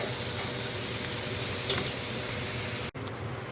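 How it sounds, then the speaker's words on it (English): Peppers, celery and onions sizzle loudly and steadily in a pan for jambalaya while being stirred, a dense close frying hiss that cuts off abruptly near the end. "I just added the peppers, celery, and I'm going to stir that in a little bit"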